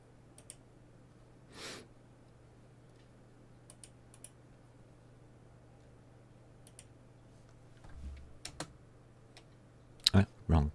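Scattered keystrokes on a computer keyboard tap out in brief, irregular clicks, quiet at first, then a louder cluster of clacks near the end, with a faint steady hum underneath.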